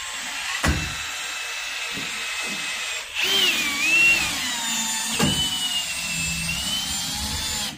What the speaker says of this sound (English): So I go straight to the drill, low torque, and I'll just set it up in here.